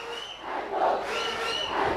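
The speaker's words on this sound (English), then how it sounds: "the crowd cheer comes out saying Antho, Antho" Home fans at a Sri Lankan schools rugby match between S. Thomas' College and St. Anthony's College chant together in a loud, rhythmic crowd roar that swells and holds steady throughout.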